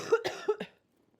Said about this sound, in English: I had a little coughing fit then.